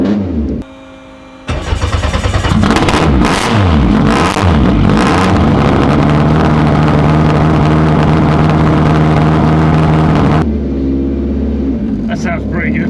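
A loud Lancia Delta Integrale works rally car engine, 500 hp, cranks, catches and revs hard, the pitch sweeping up and down, then settles to a lower idle.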